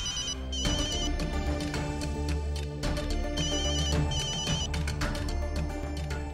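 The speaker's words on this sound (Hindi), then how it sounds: "फोन तेरा फोन बज रहा" A mobile phone rings with a melodic electronic ringtone, loud and steady for several seconds, repeating its tune in the indoor scene of a Punjabi TV drama.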